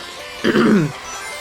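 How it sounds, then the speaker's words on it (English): A single short, close throat clear from someone commentating a Sonic Generations playthrough, one gruff rasping burst lasting about half a second between quiet pauses. "I needed to clear my throat"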